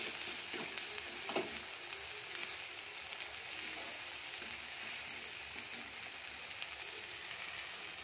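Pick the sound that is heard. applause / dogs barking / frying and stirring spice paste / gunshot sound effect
frying and stirring spice paste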